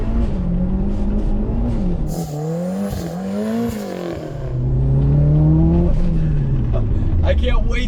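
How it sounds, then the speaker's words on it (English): Heard from outside, a Mitsubishi Eclipse GSX with a new turbo revs through wavering rises and falls, its engine note climbing loudly, with a hissing blow-off valve puff at the end under a voice talking. "This new turbo is awesome! Now you can really hear it, and the blow-off valve and everything."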